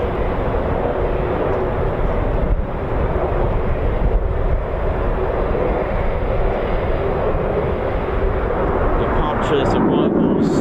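Eurofighter Typhoon FGR4 jet flying a practice display at an RAF quick reaction alert station, a loud continuous roar of engine noise sustained throughout, rising in brightness toward the end.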